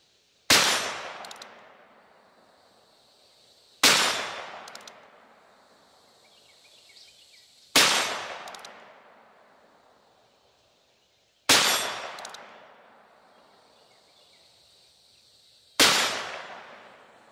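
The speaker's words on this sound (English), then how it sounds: "5 shots on steel at 20-something yards" Five gunshots strike steel targets at roughly twenty yards, each a sharp crack followed by a bright metallic ring that fades. The shots come alone at even intervals of about four seconds.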